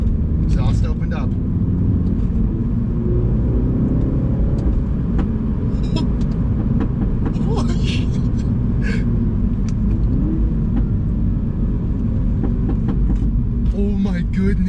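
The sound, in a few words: Mini JCW Pro exhaust with valves open, popping, sport mode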